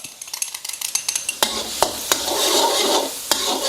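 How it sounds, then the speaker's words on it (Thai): Two tablespoons of minced garlic hitting hot vegetable oil, opening with a rapid burst of crackles and spits that settles into a steady, loud close-up sizzle with occasional pops. "พอน้ำมันร้อนแล้วใส่กระเทียมสับลงไป 2 ช้อนโต๊ะครับ"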